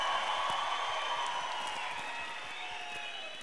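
A concert crowd applauds at a 2019 Summer Opening festival show, a steady wash of distant clapping and faint whoops that slowly fades across the few seconds, with no voice on top.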